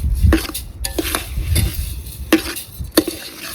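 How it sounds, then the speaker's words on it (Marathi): Coriander seeds roast in a pan on a wood-fired stove while a spoon stirs and scrapes, giving close, irregular metallic clinks and rustles over a soft crackling background. "धन भाजून झाले मित्रांनो"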